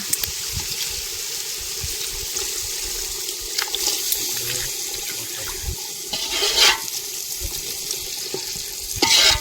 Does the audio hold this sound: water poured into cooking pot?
yes